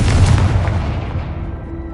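A Confringo blasting spell explodes in the Hogwarts Legacy video game: a single loud, close boom with a deep rumbling body that slowly fades away.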